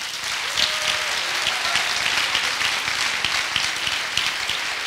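Dense, steady applause fills a graduation ceremony for master's marketing graduates, loud and continuous with no pause.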